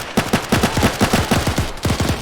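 Rapid bursts of video game gunfire crack in an infantry-focused shooter match, a loud, close string of about a dozen evenly spaced shots with no talk over them.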